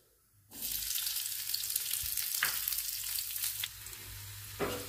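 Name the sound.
frying onion and chili in oil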